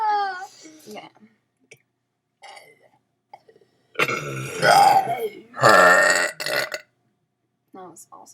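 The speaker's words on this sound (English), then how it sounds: "You're burping while you're talking." Loud, extreme burps come in several long, drawn-out bursts, with short pauses and bits of speech between them.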